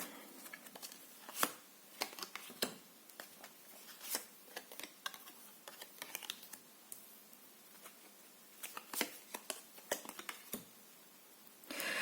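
Soft, quiet shuffling of tarot cards, with irregular papery flicks and taps spread across the clip, close by and without speech.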